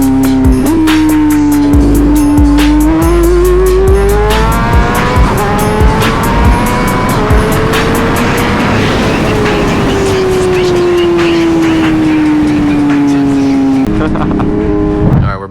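A BMW M1000RR motorcycle accelerates hard in first gear, its engine note climbing loud and continuous, dipping briefly and rising again near the end.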